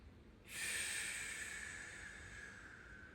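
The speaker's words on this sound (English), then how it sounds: "Exhaling through the mouth is fine." A long, steady breath pushed out through the mouth during a yoga breathing exercise, a soft breathy rush that starts abruptly and then holds, fading slightly as it continues, close and alone.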